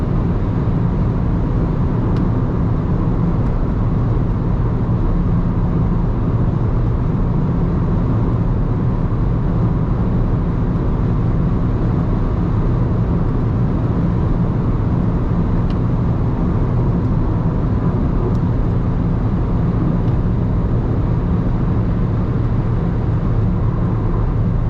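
Alfa Romeo Mito cruising flat out at about 170 km/h on the autobahn at night, pedal floored, heard from inside: a steady, loud drone of engine, tyre and wind roar that holds unchanged throughout.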